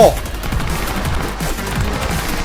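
Heavy shotgun blasts ring out in the Newgrounds game Tricky, a dense run of loud booming shots overlapping one another from start to end, with no voices in between.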